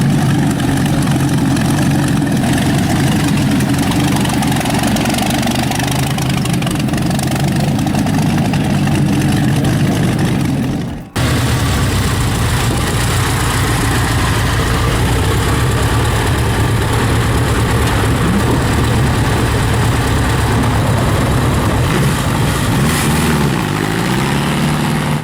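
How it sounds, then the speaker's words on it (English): A vintage Bentley with a Packard V12 engine fires up and settles into a loud, rough, deep idle, steady and continuous with a brief dropout partway, no voices present. "The Bentley Packard fires up with the roaring V12"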